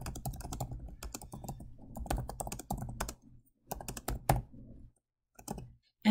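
Someone types a quiz question on a computer keyboard while setting up a quiz in Microsoft Forms, producing close, quiet key clicks in uneven bursts with brief pauses.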